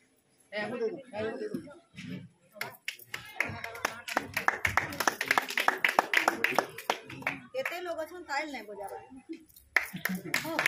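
An audience at a poetry gathering applauds, irregular hand claps building into a denser burst, with a voice speaking over parts of it.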